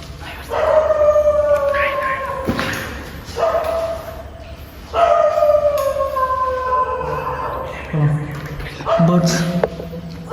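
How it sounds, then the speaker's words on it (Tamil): Several dogs howl and bark around an abandoned school, long wavering howls rising and falling in overlapping bursts with sharper barks near the end, fairly close and loud against a quiet outdoor background. "நாயெல்லாம் கொலைக்க ஆரம்பிச்சிச்சு கைஸ்"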